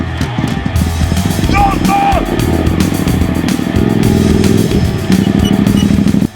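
A motorcycle engine revs loudly and continuously close by, its throttle rising and falling through a steady rumble, with people talking over it.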